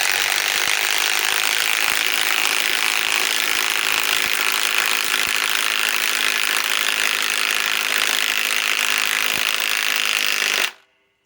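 A Milwaukee M12 Fuel stubby 2562-20 impact wrench on a 5 amp XC battery drives into pre-drilled holes, a loud, sustained rapid hammering rattle that runs nearly eleven seconds before cutting off abruptly.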